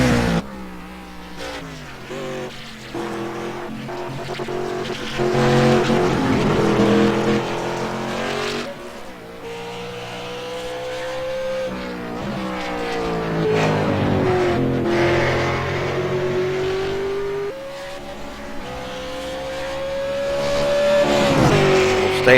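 Race cars lap a track, their engines roaring and revving through repeated pass-bys and gear changes, with tire squeals. The engine noise rises and falls, loud and close, for the whole stretch.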